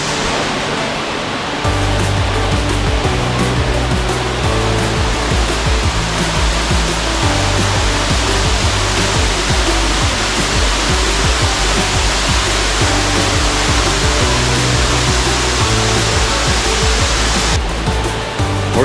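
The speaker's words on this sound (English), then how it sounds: "Horsetail Waterfall in Oregon, I think that's what this is called, right?" Horsetail Falls in Oregon's Columbia River Gorge pours in a loud, continuous broadband roar that starts abruptly and stays steady and close for the full length, with no voices.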